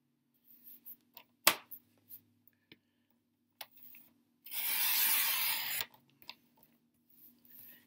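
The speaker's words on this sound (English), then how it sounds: "I'm going to use my Stampin' trimmer again and do that at 4" A Stampin' Up paper trimmer slices through cardstock for a card background: one steady, close scraping swipe lasting about a second, set among light taps and handling clicks, with no talking.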